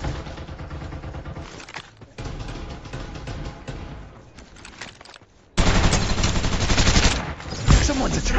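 Rapid gunfire bursts in the Farlight 84 battle game, with rattling automatic fire that quiets midway, then returns as a loud, dense, sustained volley in the final seconds.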